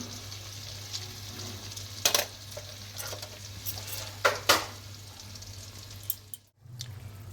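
Mustard paste fries in a pan with a soft low sizzle and hum, broken by a few sharp scrapes and stirring clinks, close by, briefly dipping to near silence before resuming.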